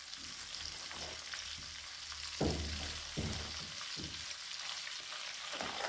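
Wheat flour roasting in a pan for panjeeri, a soft steady sizzle and rustle punctuated by a few distinct scrapes and knocks of a spoon stirring, close and moderately loud.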